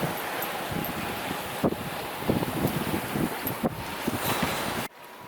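Steady wind roars across the microphone on a sailboat at sea, with waves washing and splashing beneath, loud and continuous until it cuts off abruptly near the end.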